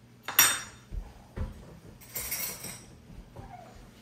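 A metal spoon clinks against dishes in a home kitchen during a peanut sauce tasting, with a few distinct taps and scrapes spaced over a few seconds, quiet and close with no talk.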